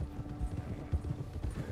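Horses gallop in Red Dead Redemption 2 with quick, uneven hoofbeats thudding close by, briefly and alone with no talk.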